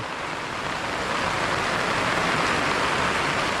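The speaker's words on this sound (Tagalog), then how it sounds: "Sadya pong napakalakas ng ulan." Heavy rain pouring down outside a hut on a wet morning, a steady dense wash of noise that stays loud and even throughout with no talk.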